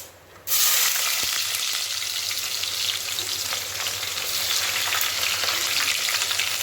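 Onions dropped into hot oil already seasoned with cumin, fennel and fenugreek for sambar rice burst into a loud, steady sizzle that starts abruptly and holds a dense frying hiss throughout, close and without talk.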